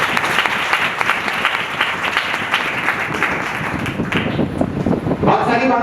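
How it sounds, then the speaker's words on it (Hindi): A congregation at a Hindi Christian gathering claps, a steady dense round of applause that grows slightly toward the end, with some voices mixed in. "बजा सकते हो ताली।"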